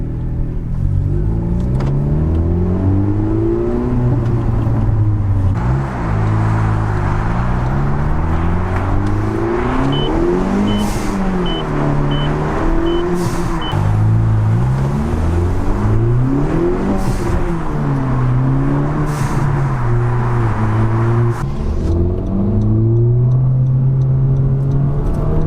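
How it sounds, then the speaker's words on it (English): A 10th-generation Honda Civic Si engine drones loudly from inside the car while driving across town, rising and falling in pitch through repeated accelerations and shifts, with no talking. "take a ride across town and listen to the fun noises of the SI"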